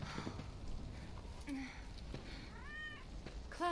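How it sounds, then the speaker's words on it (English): A cat in Final Fantasy VII Remake meows a few times: a short call, then a clearer drawn-out meow, and a last sharp mew at the end, moderately loud over soft game ambience. "Good kitty."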